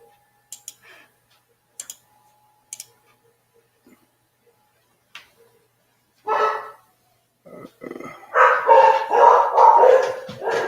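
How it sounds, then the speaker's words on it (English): A dog barks in short sharp bursts at a house, a few sparse yelps early on, then louder sustained barking or raised voice-like sounds toward the end, fairly close. "Oh, my dog's going crazy."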